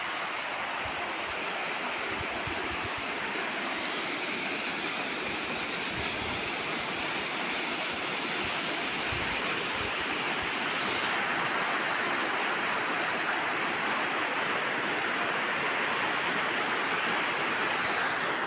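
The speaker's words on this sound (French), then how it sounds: "Regardez la rivière." A mountain river rushing beneath a footbridge, a loud, dense and continuous roar of flowing water heard close, with no talking.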